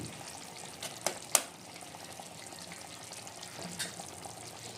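Ghee and garam masala are stirred into a simmering katla fish kalia gravy, a steady sizzling bubble broken by two sharp spoon clinks against the pan early on.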